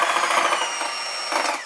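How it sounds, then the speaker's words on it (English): Egg white being whisked rapidly in a bowl, a dense, steady scraping whir that runs throughout at close range with a brief surge near the end. "So why are you whisking the egg white?"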